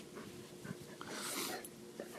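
Shelby, an old dog, pants softly with faint whimpers and snorting breaths, heard close by over a low, steady background.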